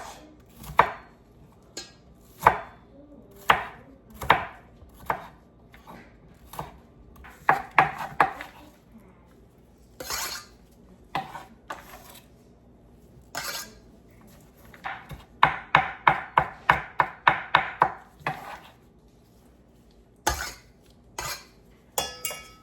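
A knife chops a small piece of onion on a board in sharp, close knocks, first spaced out and then in quick bursts of rapid strokes with short pauses between, no speech.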